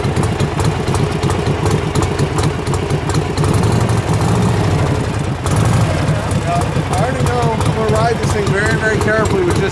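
A 1969 Harley-Davidson FLH with original paint idles with a loud, lumpy low-frequency beat, steady and close, while someone talks over the engine throughout.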